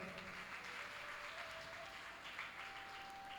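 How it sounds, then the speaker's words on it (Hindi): Listeners at a Shrimad Bhagavat Katha discourse in Meerut clap together briefly, a short, faint burst of steady clapping heard from some distance. "भाई एक बार ताली बजा दो इनके लिए।"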